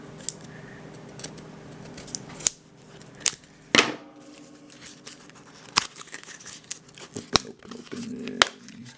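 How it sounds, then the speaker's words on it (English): Sharp scissor snips come in irregular bursts, with rustling and crinkling of packaging between the cuts. "It's time for the scissors."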